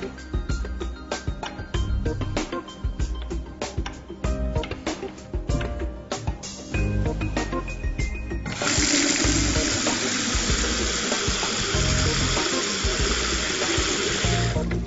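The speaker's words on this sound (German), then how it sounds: "Dann öffnen wir den Ablauf und stellen das Wasser wieder an." Water from a Hansgrohe tap just fitted with a new ceramic cartridge first splashes unevenly into a sink, then settles into a steady, loud rushing stream.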